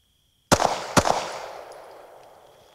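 Two sharp pistol shots fired at a target at night, close and loud, about half a second apart, each followed by a ringing decay into quiet.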